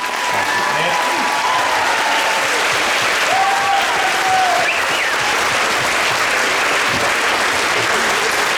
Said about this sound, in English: Let's give everybody one more round of applause tonight.